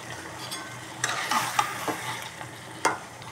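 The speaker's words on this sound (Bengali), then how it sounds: "এগুলো এখন কষিয়ে নিব।" Ginger, garlic and cumin paste frying with chicken gizzards in a pan, a soft continuous sizzle broken by several sharp scraping and clinking strokes of a stirring utensil, close up with no talking.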